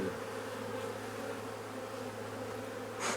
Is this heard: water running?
no